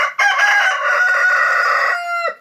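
A lavender rooster crows once, close and loud, with a long sustained cock-a-doodle-doo that holds for about two seconds before dropping off sharply.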